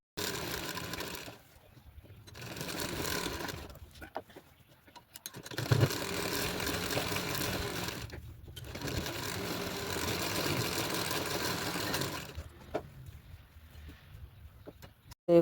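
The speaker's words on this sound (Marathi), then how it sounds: "त्या साईडने फोल्ड करून तिथे शिलाई मारून घ्यायची आहे." An electric sewing machine stitches a folded kurti sleeve seam in several bursts of steady rapid whirring, separated by short pauses, close and fairly loud with no speech.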